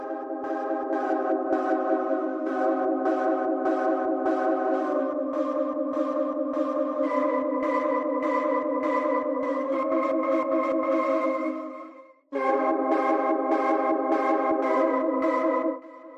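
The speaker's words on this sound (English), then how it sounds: "So these are two pulses I made by manipulating the original drum samples to get pitch tones out of them." Steady synthesized pulsing tones made from pitched drum samples, with layered pitched harmonics, ticking in a regular tempo-synced rhythm, briefly cutting out near the end before resuming.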